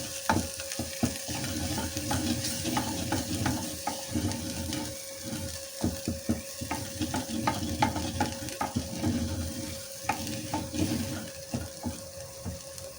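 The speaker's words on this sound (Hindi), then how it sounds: "अच्छे से हम मसाले को भून लेंगे।" Spices with turmeric and salt fry in a pan for a tinda and mooli curry, giving a steady close sizzle broken by repeated scraping stirs.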